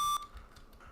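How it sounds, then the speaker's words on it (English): A short electronic beep from a video edit rings out as a clean, steady tone, then cuts off sharply, followed by faint low background noise. "this final beep here was also an audio form"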